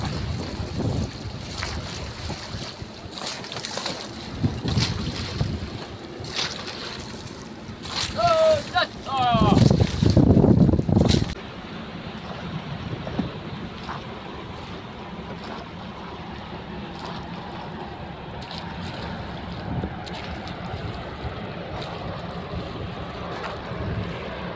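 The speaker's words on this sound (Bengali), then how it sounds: "একদম কাছ থেকে জাহাজ যাচ্ছে।" A ship passes close by a fishing boat at sea, a low engine rumble and wind that swell into a loud surge midway before easing off, with people talking on board.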